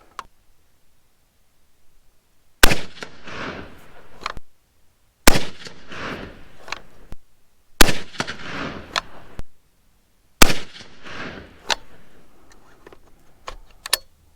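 Four loud, sharp 6.5 Creedmoor rifle shots firing 130-grain ELD-M reloads at targets on an outdoor range, each crack followed by a rolling echo, spaced a few seconds apart.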